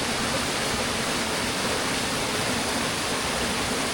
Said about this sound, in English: I know you all love the river sound, the sound of water.